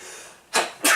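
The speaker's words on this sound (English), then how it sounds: "You sneeze like me." Two sharp bursts of a person sneezing, close and loud, one about halfway through and another at the end, following a quiet stretch.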